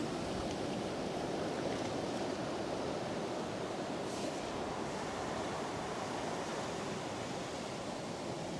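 Powerful set waves driven by a southerly swell wash up a fishing beach in a continuous roaring surge of surf, loud and broadband with some wind buffeting and no talking.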